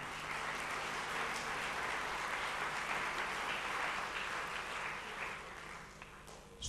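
Sustained applause from a concert audience, a dense steady clatter of many hands clapping that holds loud for about five seconds before thinning slightly at the end.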